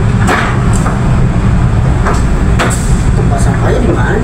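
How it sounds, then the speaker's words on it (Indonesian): The Progo passenger train pulls out of Purwokerto station, heard from inside as a steady low rolling rumble with periodic clacks and knocks from the wheels and cars. "perjalanan kereta api Progo diberangkatkan lagi di stasiun Purwokerto terlambat 1 menit"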